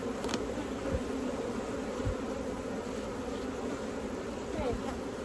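Honeybees buzzing around an open hive outdoors, a continuous close drone of many wings with a few louder passes of individual bees.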